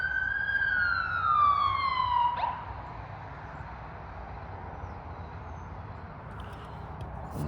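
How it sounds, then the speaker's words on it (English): An ambulance siren wails in a falling sweep for a couple of seconds, then cuts off, leaving a low background hum. "There's the ambulance call."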